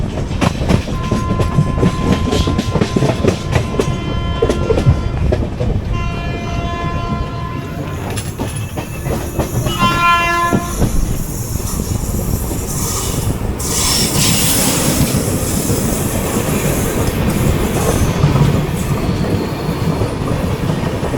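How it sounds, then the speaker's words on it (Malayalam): Jamnagar–Tirunelveli Express rolling past on the rails, a loud, steady rumble of wheels and carriages with rhythmic clatter and a brief horn-like tone near the start, continuing without talk throughout. "ജാംനഗർ തിരുനെൽവേലി എക്സ്പ്രസ് ആയിരുന്നത്."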